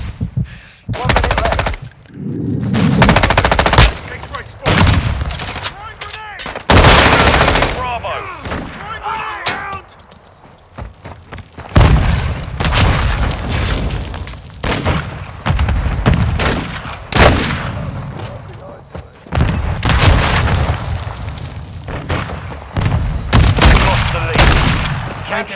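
Heavy gunfire and explosions in the shooter Call of Duty: Modern Warfare: dense automatic bursts, single shots and booming blasts come in waves, with quieter lulls between, while voices call out over the fighting.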